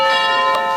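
A large bell rings out in a stage production of a Pink Panther comedy, a single loud sustained metallic tone with bright overtones that hangs on through the whole short moment.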